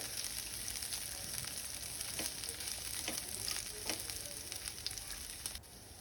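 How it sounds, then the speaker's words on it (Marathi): Chopped onion frying in hot oil in a pan, a steady, soft sizzle with faint stirring clicks and no talking. "त्याच्यामध्ये हा कापलेला कांदा घालत आहे कांदा आपल्याला तेलावर परतवून घ्यायचा आहे"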